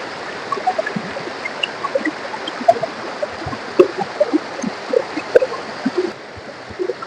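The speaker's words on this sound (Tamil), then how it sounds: "அப்படியே பாறைங்களுக்கு நடுவுல தண்ணி பாருது." Water runs steadily over rocks, a continuous rushing wash dotted with small gurgles and splashes, close by, with no voices.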